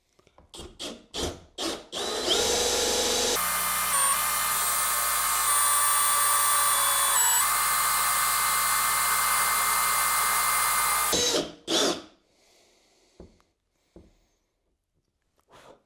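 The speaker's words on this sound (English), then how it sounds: "So 1 1/4 inch hole saw for these 2 inner holes." Power drill driving a 1 1/4 inch hole saw through material to cut inner holes for a Minn Kota Terrova trolling motor mount, a loud steady grinding whine lasting about nine seconds, with a few clicks and short bursts before and after.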